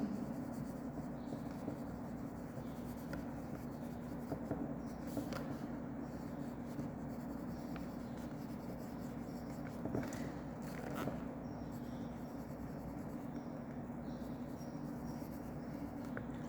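A pen scratches across paper while math exercises are worked out, soft continuous strokes with small ticks and pauses against a quiet room hum, no talking.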